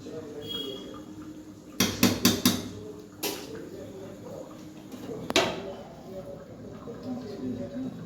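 A cooking pan on the stove takes a quick run of metallic clatters and scrapes as food is stirred, followed by a few more isolated knocks, with a voice talking over it.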